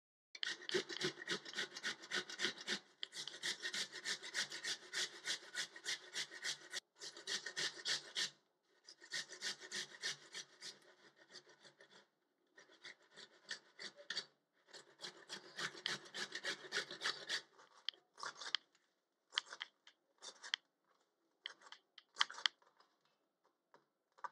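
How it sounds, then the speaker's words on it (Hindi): Vegetables for paratha are finely chopped with a knife on a board, a long run of fast, even rhythmic strokes with brief pauses that turns into slower scattered cuts near the end, close and alone. "इसको मैं बारीक काट लूँगी"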